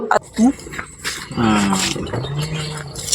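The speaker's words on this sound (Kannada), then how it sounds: "ಅಲ್ಲಿ ಎಷ್ಟು ಕ್ಯೂಟ್ ಆಗಿತ್ತು ಗೊತ್ತಾ ಈ ನಾಯಿ ಮರಿಗಳು ಅಂದರೆ" Puppies at a relative's house make short whimpering yelps and small barks between stretches of nearby talk, with voices running over most of the sound.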